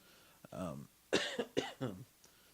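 A man on a podcast coughs several times in close succession, harsh raspy bursts up close, with a brief throat-clearing sound among them.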